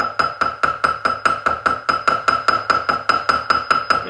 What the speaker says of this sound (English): And then use a soft hammer.